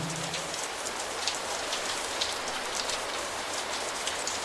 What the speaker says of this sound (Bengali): বৃষ্টি নামে তোমার বাড়ি